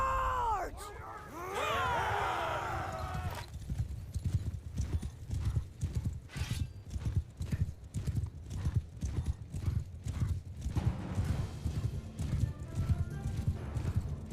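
A horse gallops in the medieval combat game Mount & Blade II: Bannerlord, starting with a shrill whinny, then a fast, even clip-clop of hooves that drums steadily up close for over ten seconds while someone talks briefly.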